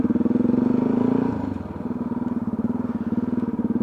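A Ducati motorcycle rides slowly through a dense crowd in Groningen's city centre on King's Day, its engine thumping at a steady low idle, loud and close, with one brief rise in revs before it settles back.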